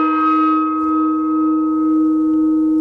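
A metal gong or bell struck once before the clip and ringing on loud and close, a steady sustained tone with rich harmonics and a gentle slow pulsing, no talk over it.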